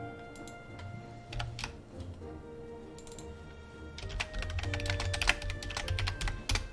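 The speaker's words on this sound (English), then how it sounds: "I like this keyboard. I do like the sound of it." Someone types on a computer keyboard in a steady run of close, crisp keystrokes, with the clicks growing denser and louder in the second half, and no one speaks.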